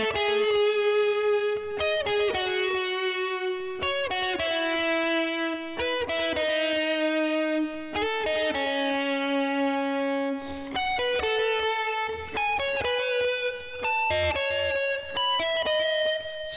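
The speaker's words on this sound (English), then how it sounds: "So let me put the distortion." An electric guitar lead played through a distortion effect rings out as a melodic solo, with sustained bent notes and quick phrases that continue steadily for the whole stretch without any speech.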